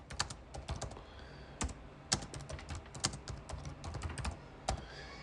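Typing on a computer keyboard: bursts of close, crisp key clicks in uneven rhythm with short pauses between runs, heard alone without speech.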